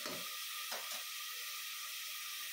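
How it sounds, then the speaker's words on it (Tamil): Onions sauté in a pan for Chettinad chicken curry, a steady close sizzle and hiss with a few soft stirring bumps near the start. "வெங்காயம் வந்து நல்லா கோல்டன் ப்ரவுன் கலர் வரைக்கும் நல்லா வதக்கி விடுங்க"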